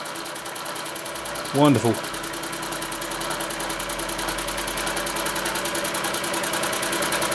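A vintage Empco B-43 model steam engine runs steadily with a continuous, fine-grained mechanical chugging and hiss. Someone speaks briefly near the start.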